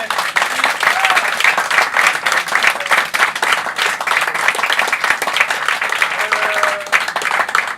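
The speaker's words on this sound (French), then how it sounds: "vous allez applaudir pour tous ceux qui sont venus" Sustained applause from an audience at an improvisational theatre show, dense steady clapping filling the whole stretch with faint voices mixed in underneath.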